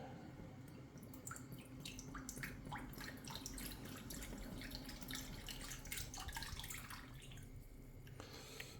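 Liquid from a bottle splashes and trickles steadily into a bowl for a biltong marinade, a continuous gurgling pour heard up close with faint clinks of the container.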